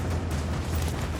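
A grenade goes off in Rise of the Tomb Raider, a dense, loud rumbling blast filling the whole short moment with sustained low boom and debris noise.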